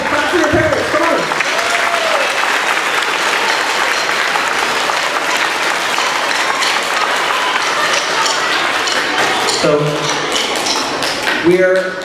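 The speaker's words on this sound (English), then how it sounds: "clap for your parents, come on" An audience at an elementary school spring band concert applauds for the parents in loud, dense clapping that carries on for several seconds, with a voice heard briefly at the start and end.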